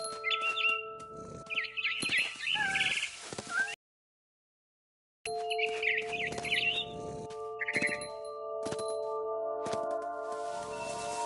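A barn swallow chirps from the video game What Remains of Edith Finch: clusters of bright tweets and twittering calls, close and clear, over steady tonal hums, broken partway through by a short stretch of silence.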